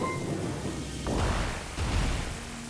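Rain and thunder from the Jamestown video game, a steady broadband wash of rainfall with two low rumbling thunder swells rising partway through, fairly close and without any talking over it.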